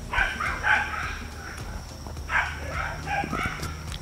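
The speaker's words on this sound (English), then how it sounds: "Man, these dogs are something else." Dogs bark in short bursts from somewhere nearby but not close, a few separate barks with brief pauses between them.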